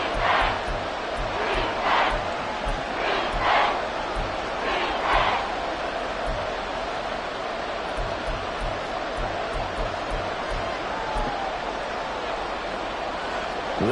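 Simulated stadium crowd in an American football video game, Cowboys against Falcons near the goal line, a constant roar with rhythmic pulses of chanting in the first half, then a steady wash of crowd noise.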